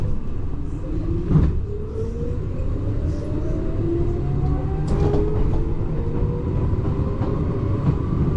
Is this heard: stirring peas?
no